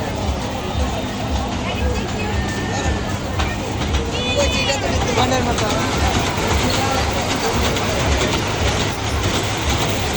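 A fairground toy train ride at a fair rolls along with a continuous rattling clatter of wheels and carriages, heard under a busy crowd hubbub and people talking.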